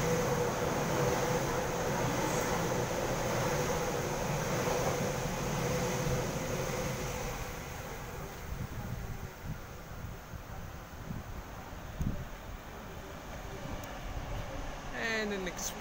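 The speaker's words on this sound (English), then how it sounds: "And an express Tangara passing." An express Tangara electric train roars past Pendle Hill station, Sydney, loud and close, its broad rushing noise filling the first half before easing into a lower rumble with a few clanks.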